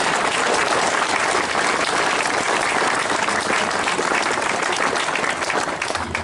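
Loud, dense applause from a crowd at an outdoor anti-Protocol parade and rally, sustained and even throughout with no pauses.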